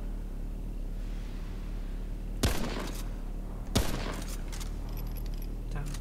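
Two sharp, loud gunshots about a second apart in Remnant: From the Ashes, each cracking out over a steady low game ambience, followed by a few fainter clicks and rattles.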